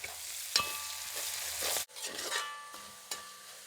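Green chillies and curry leaves sizzle in hot oil in a pan for fish pickle, with steady frying hiss and a few scraping stirs of a spoon, close and alone.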